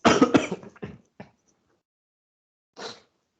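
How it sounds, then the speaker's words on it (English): Person recovering from illness gives a rough burst of throat clearing and coughing, several quick harsh hacks close up, followed by a pause and one more short cough. "So sometimes I cough"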